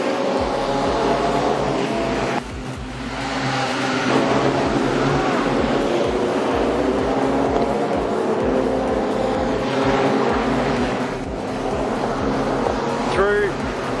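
Speedway race cars circle the track at Carina Speedway in a QLD title event, several engines roaring together in a steady, dense drone that dips briefly, under continuous excited commentary.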